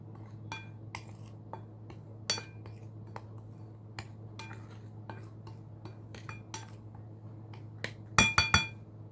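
Sattu flour being mixed with spices in a bowl, heard as a quiet run of sharp clinks and scrapes of a utensil against the dish, ending in a quick burst of louder taps, with no voices.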